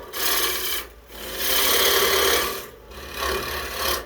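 A carbide carving tool hollows a maple wood kuksa in rough, rasping strokes, three bursts separated by brief pauses, loud and close, with no speech.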